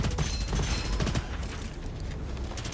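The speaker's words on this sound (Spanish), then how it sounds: "Realmente tenemos que atinar nuestros disparos" Gunfire in the shooter video game Gunfire Reborn: dense, continuous bursts of shots and impacts layered over busy game effects, loud and close throughout.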